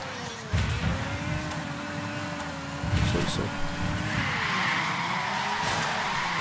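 A vehicle in the video game Ghost Recon Wildlands skids and crashes, with tire screech and rumbling impacts carried under a steady engine drone, while someone talks over it.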